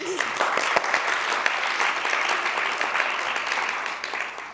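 A studio audience at a Turkish talk show claps together in steady, dense applause that carries evenly from start to end.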